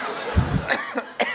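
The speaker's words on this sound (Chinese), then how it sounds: "我等他咳嗽完了啊。" A performer coughs on stage during a Deyunshe crosstalk show in Tianjin, with a few short, close cough bursts in quick succession over faint background noise.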